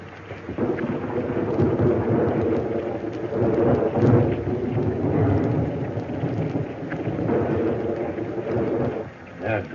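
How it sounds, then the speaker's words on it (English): A heavy thunderstorm with steady rain and deep rolling thunder throughout, loud and continuous, with faint voices underneath. "What a storm."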